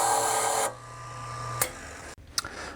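A freshly cut key is deburred after the key-cutting machine's loud whir stops, leaving brief scraping rubs and a couple of sharp clicks and knocks up close, with no speech.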